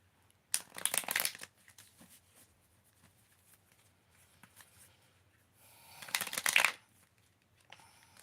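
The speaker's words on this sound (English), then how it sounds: "Let's get one more shuffle." Two quick bursts of tarot cards being shuffled close up, a crisp riffling flutter, separated by a few seconds of near silence.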